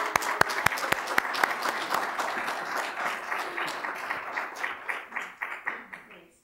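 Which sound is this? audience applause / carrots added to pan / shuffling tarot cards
audience applause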